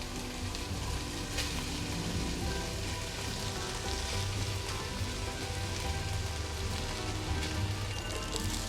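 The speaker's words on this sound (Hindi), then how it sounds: "अब हम इसमें डालते हैं अपने स्पैगेटीज़" Spaghetti hitting a hot pan while cooking Singaporean rice, giving a steady, loud, dense frying sizzle that crackles continuously throughout with no voices.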